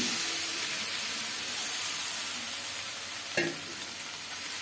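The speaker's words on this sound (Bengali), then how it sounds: "বেগুনের সাথে মশলাটা একটু আরেকটু কষাই নেব।" Eggplant stir-fried with spices in a pan, giving a dense continuous sizzle and hiss up close, broken once by a brief scrape of the spoon, with no voices.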